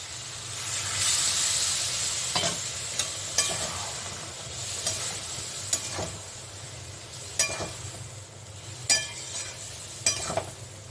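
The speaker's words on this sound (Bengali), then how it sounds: "এখন আমার কষানো হয়ে গেছে তেল তেলে দেওয়া মানে হয়ে গেছে এখন আমি এটাকে জল দিয়ে দেবো" Spices frying in oil for a spicy drumstick (sajne data) curry give a steady sizzling hiss with scattered sharp clinks and scrapes of a stirring spoon against the pan, close and fairly loud, with no talking.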